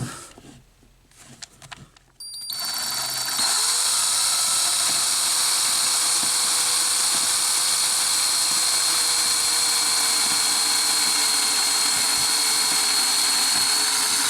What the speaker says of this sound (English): Drills a perfectly clean little hole.